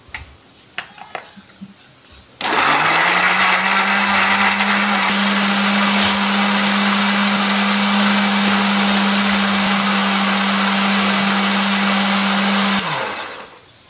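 A few quiet clicks, then a blender grinding tomato and chili paste with a little water roars to life at high speed for about ten seconds before winding down, loud and close.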